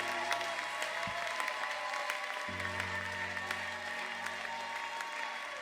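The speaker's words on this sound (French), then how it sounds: "Applaudis très bien pour l'Éternel Dieu." A congregation claps during a French-language teaching service in church, a steady, dense wash of applause that runs the whole stretch at moderate distance, with no one speaking over it.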